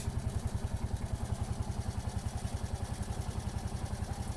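A keke tricycle engine idling to warm up, holding a steady, fast low putter with a light rattling clatter close by and no one talking.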